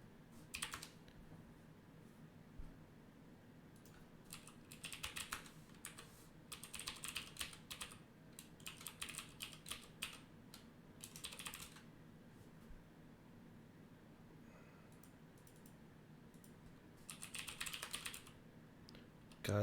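Bursts of rapid typing on a computer keyboard, clattering keystrokes in irregular clusters separated by quiet pauses, close and fairly faint over a low steady room hum.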